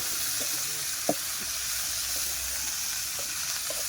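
Prawn and katla fish heads frying with green chillies, garlic and radhuni spice in a pan, giving a steady, moderately loud sizzle, with a few soft stirring clinks and taps throughout.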